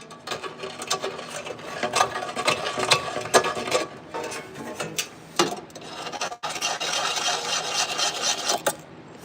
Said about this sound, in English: Take your deburring tool.